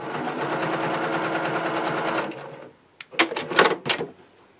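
A sewing machine runs a test seam through scrap fabric at a quarter-inch guide, whirring in a fast, even stitch rhythm for about two seconds, then stopping, followed by a few sharp clicks and rustles of handling, close up.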